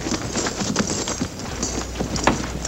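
Several cavalry horses clip-clop on the ground as a detail of soldiers halts and dismounts at a western ranch, a scatter of close hoof strikes and shuffles with light jingling, no voices heard.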